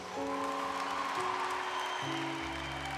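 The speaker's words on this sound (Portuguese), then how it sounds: "Aplauda o Senhor Jesus." A church congregation applauds in a steady wash of clapping while sustained keyboard chords shift underneath.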